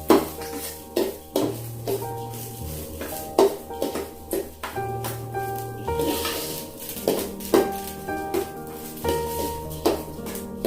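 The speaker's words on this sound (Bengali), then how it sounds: "দেখো এইভাবে নেড়ে যেতে হবে আমাদের।" Basanti peas pulao being stirred in a pot, a spoon scraping and clinking against the metal in repeated close strokes over a faint background hum, with no voices.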